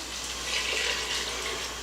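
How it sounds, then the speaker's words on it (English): Beef broth is poured into an Instant Pot for beef bourguignon, a steady, close liquid splash and gurgle that runs unbroken for about two seconds. "So I'm going to pour that in."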